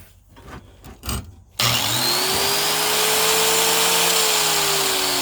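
A corded power tool just fitted with a repaired cord switches on after a few soft handling knocks, its motor winding up quickly to a loud, steady whine that runs evenly to the end.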